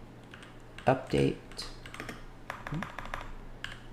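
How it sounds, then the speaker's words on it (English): Keys clatter on a computer keyboard as a terminal command is entered, with a few louder bursts of keystrokes scattered through and a voice speaking over part of it. "we're going to type in the command sudo"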